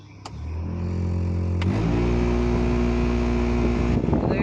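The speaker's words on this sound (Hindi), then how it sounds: "इसका हीटर ऑन करने पर ये शोर आ रहा है।" Heater blower motor in an Alto 800 car running with a steady, loud droning hum and strong low tones, rising in intensity after a brief click and continuing unbroken, with a rattly edge suggesting debris in the fan.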